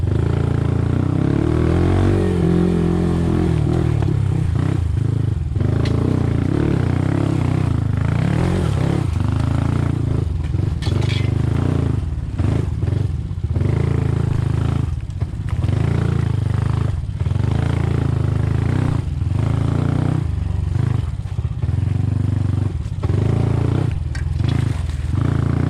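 Honda CT 125 motorcycle riding with the engine droning steadily and rising in bursts of acceleration, loud and close throughout, with wind buffeting over the motor.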